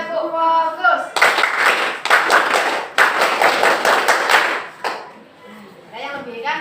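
A school class performs the tepuk pramuka scout clap, loud bursts of rhythmic group clapping in patterned sets between a teacher's spoken cues, with the children's voices chanting before and after.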